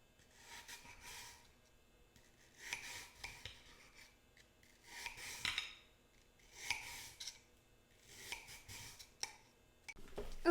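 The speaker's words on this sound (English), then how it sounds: "And then I'll cut this into some really nice slices." A knife slicing through apples on a board, about six separate rasping cuts at a slow, regular pace, close and fairly quiet, with no talking.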